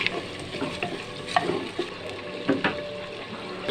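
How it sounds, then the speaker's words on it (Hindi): Ginger garlic paste frying with onions in a pot, a steady sizzle with bursts of crackle and several louder stirring scrapes, close and alone with no talking. "अब इसमें मैं डालूँगा अदरक लहसुन का पेस्ट है"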